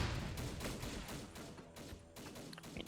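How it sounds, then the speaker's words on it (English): Artillery barrage fire in a wargame set in Indochina, a dense rumbling volley of repeated blasts and crackling shots carrying on steadily throughout, loud and busy with no talking. "Barrage fire southeast."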